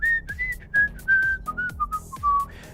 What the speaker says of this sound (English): We'll kind of just sit here and whistle